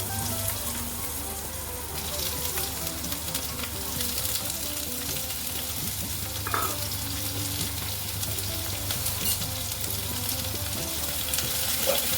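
Steady crackling sizzle of food frying in a wok, continuous and close, with a low steady hum underneath and an occasional scrape.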